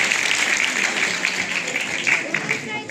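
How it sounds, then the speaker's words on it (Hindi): Loud, dense applause from a large audience at a Hindi award and honours ceremony for school children, steady and sustained throughout with faint voices under it. "एक बार जोरदार तालियां सभी बच्चों के लिए"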